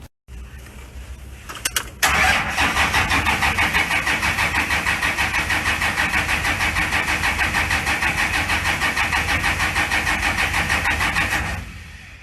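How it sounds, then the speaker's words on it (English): A couple of clicks, then a 1997 Dodge 2500 diesel engine in a 1966 Dodge Crew Cab cranks over with a loud, fast pulsing chug for about ten seconds before winding down without catching. "And now we're gonna try to start the truck."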